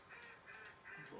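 Mallard ducks in the Duck Dynasty hunting video game let out several short, nasal quacks in quick succession over a steady game background.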